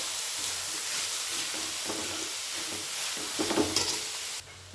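Grated carrot frying in a pan, a continuous sizzling hiss with scraping stirring strokes near the end, steady and fairly close, with no talking.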